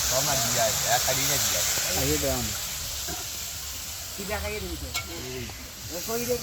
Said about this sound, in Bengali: আমাদের যে মাংস দিচ্ছে কড়াইতে এখন মাংস রান্না হবে